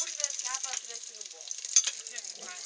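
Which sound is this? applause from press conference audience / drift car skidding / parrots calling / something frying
something frying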